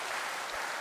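Congregation applause at a novena mass in honor of the Divino Rostro, a dense, even wash of clapping from a church crowd, brief and steady under room reverberation.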